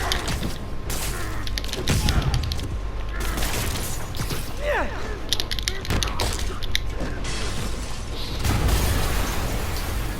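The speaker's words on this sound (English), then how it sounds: "an explosion just... I saw it" Game-world explosions and rumbling booms in the Marvel's Spider-Man video game, loud, dense and continuous with bursts of debris and mechanical clatter, while voices speak intermittently over the action.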